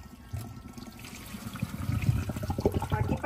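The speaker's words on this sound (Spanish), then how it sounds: "también le voy a poner a este agua fría para enfriarlo más rápido" Cold water pours over drained broccoli, starting with a splash and building into a steady, close running gush and patter.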